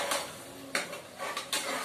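Tomato, onion, ginger and garlic being stirred in a pan, with three sharp scrapes of a utensil against metal spaced about a second apart over a soft background hiss.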